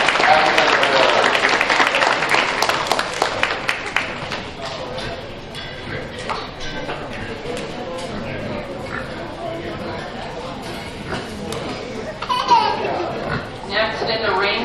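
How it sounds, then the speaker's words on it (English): A crowd at a county fair swine show gives a round of applause, loudest at the start and then thinning into scattered clapping, with voices and some laughter mixed in. "let's give them a round of applause for great work and having them available"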